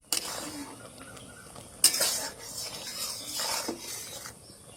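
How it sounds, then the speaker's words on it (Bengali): Unripe mango pieces cooking down in a pan are stirred with a utensil, scraping and clinking against the metal over a low bubbling sizzle, with one sharper clank partway through. "এইভাবে নেড়ে দেব"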